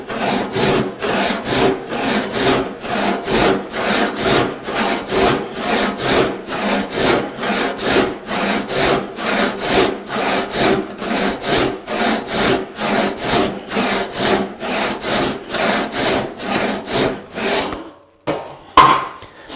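Hand saw cutting a wooden bench hook, steady rhythmic rasping strokes back and forth, close and clear, about two strokes per second, continuing for some time before stopping with a couple of light knocks.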